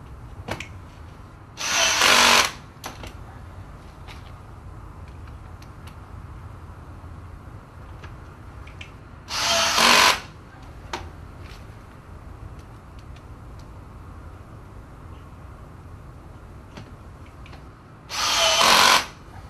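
A power drill drives screws into brackets on a Red Sea reef aquarium in three short, loud, high-torque bursts spaced several seconds apart, with a low steady hum between them.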